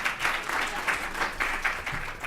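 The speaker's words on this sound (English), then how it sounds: "you can applaud yourselves" Audience applause at a civic event on the homelessness crisis, a dense, even wash of many hands clapping at moderate distance, fairly soft and sustained throughout.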